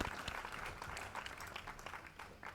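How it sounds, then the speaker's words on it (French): Dense, continuous applause from a theatre audience after music ends on stage, many hands clapping at once at moderate volume throughout. "la musique s'est tue dans une bruyante salve d'applaudissements"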